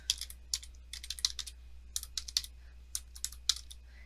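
Quick bursts of keystrokes on a computer keyboard as a username is typed, with short irregular clusters of clicks and brief pauses between them, close and fairly quiet.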